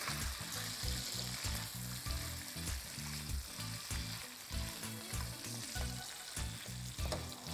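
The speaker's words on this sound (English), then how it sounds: "The butter is hot, let's add in ginger garlic paste and cook till the rawness of the ginger garlic paste goes" Ginger garlic paste sizzles and fries steadily in hot butter in a pan, a dense continuous crackle with rhythmic stirring scrapes throughout, no talking.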